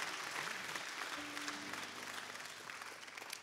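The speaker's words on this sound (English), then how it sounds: "Let's clap our hands and thank God for his goodness over our lives." A church congregation claps together in a steady, dense burst of applause, fairly close and continuous for a few seconds before tapering off.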